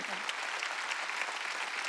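Church congregation applause during a Sunday worship service, a dense, even wash of clapping that continues without a break for the whole moment.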